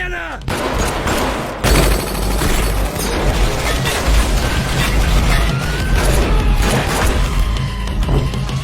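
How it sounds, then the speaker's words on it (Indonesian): Heavy gunfire in a film shootout: dense, loud bursts of shots and impacts crowd together almost without pause, with crashes and booms mixed in across the whole stretch. "di tengah baku tembak antara anak buah setia Mukun dengan pasukan Herta, muncullah Balai yang datang untuk membantu,"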